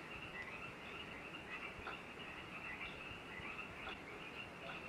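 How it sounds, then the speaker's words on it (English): A dense nighttime chorus of frogs calls steadily at an old house during a paranormal investigation at Glen Bui, a continuous high trilling mixed with faint insect chirps and no talking. "You can hear those frogs."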